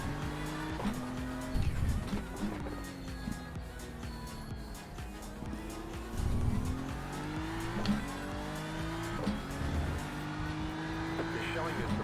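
A BMW race car in the iRacing game rolls down the pit straight, its engine note holding steady tones that rise and fall with throttle changes, with occasional tire noise, under ongoing commentary from people talking.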